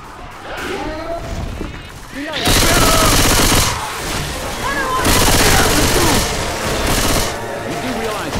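Heavy gunfire in Left 4 Dead 2 on Xbox 360: loud, close automatic bursts and rapid shots in dense waves with brief lulls, with players talking over voice chat underneath.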